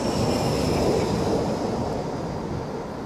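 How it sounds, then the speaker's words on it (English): A train crosses the Harringworth Viaduct overhead with a broad, continuous rolling rumble and rattle that is loud and close, then slowly eases off. "I think a train's about to go overhead."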